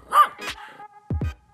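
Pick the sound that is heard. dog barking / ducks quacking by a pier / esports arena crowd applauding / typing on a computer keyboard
dog barking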